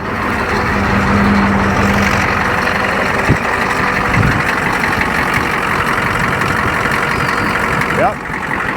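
A Ford 7.3L IDI diesel in an OBS Ford one-ton dually truck idles up close with a loud, steady, rough rumble and clatter that holds unbroken throughout.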